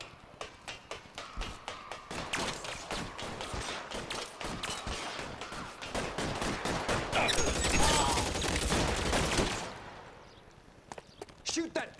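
Dense rapid gunshots crackle in the 1940s-style crime video game L.A. Noire, loud and sustained for several seconds before tapering into a few scattered shots, with a voice talking over them.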